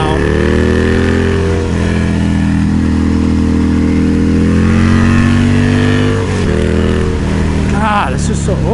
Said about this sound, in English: Awesome bike, but this thing's just nasty little Sportster motor, man.